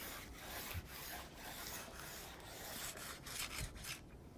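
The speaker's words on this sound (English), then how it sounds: "So I like to use 3 different diamond stones" Diamond stones rasp back and forth along ski edges in quick repeated strokes, a faint scratchy rubbing with a steady rhythm and no voices.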